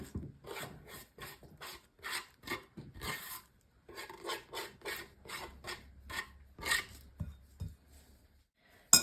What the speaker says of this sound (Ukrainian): І добренько вилочкою розминаємо.